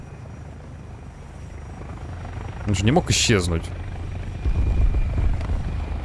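A helicopter drones nearby in the War Thunder video game, a steady rotor rumble under someone speaking Russian, with a brief engine swell midway.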